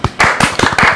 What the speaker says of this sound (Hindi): आपकी और मेरी तालियों में हम इस्तकबाल करते हैं सिद्दीकी बॉस